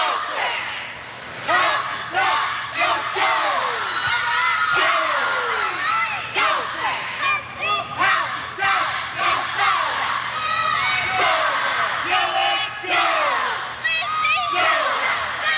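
Crowd at a college national cheerleading championship roaring along with a cheerleading squad's traditional chant, a dense, continuous wall of many shouting voices throughout, loud and close.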